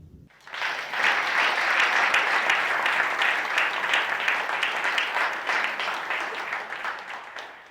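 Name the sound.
audience applause at a ceremony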